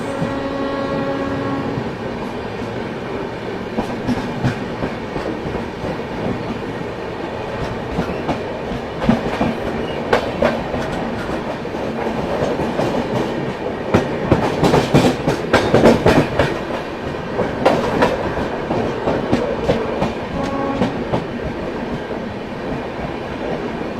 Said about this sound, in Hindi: किसी भी वक्त अपनी क्रॉसिंग हो सकती है दोस्तों जयनगर गरीब रथ के साथ, आनंद विहार टर्मिनल जयनगर।